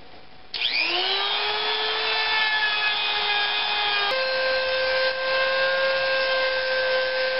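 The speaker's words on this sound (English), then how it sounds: "Now let's sand these guys down, at least to a manageable shape." Small wooden pieces for a custom fixed-blade knife handle held against a motorized sander, a steady whine starting after half a second and running continuously with a slight shift in pitch partway through, no talking.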